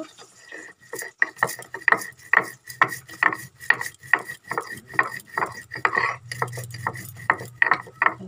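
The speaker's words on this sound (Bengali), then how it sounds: "পাঁচফোড়নটা আমি এখন ছিঁড়ে বেটে নেব।" Panch phoron five-spice is ground by hand, giving a steady run of short, crisp scraping and crushing strokes in an even back-and-forth rhythm, close and fairly quiet.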